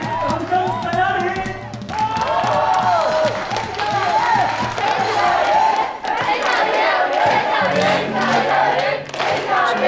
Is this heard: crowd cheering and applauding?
yes